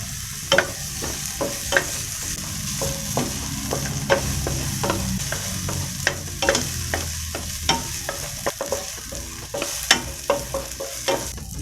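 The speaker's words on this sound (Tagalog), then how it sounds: "magisa na tayo ng bawang" Garlic sautés in hot oil in a pan, a constant near sizzle broken by frequent sharp spatula scrapes and taps against the metal in a loose, busy rhythm.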